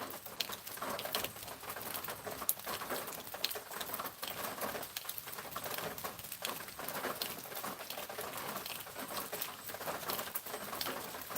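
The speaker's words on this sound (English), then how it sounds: "let me know if you can hear the rain on the roof" Steady rain pattering on a roof on a rainy day in Georgia: dense, continuous crackling drips close by, with no pauses and a faint bird call now and then.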